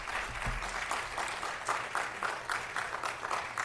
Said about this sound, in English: Could we give them another round of applause for that amazing achievement?